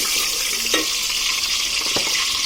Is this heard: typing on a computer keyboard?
no